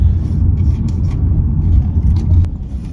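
A car drives through a city with a loud, steady low engine and road rumble from inside the cabin, holding even throughout with faint higher noises on top.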